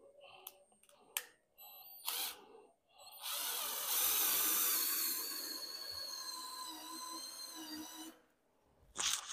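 A power drill boring a hole for a ceiling fan hook during house wiring work, a whining run of several seconds after a few short bursts of handling noise, fairly close, ending in scraping knocks.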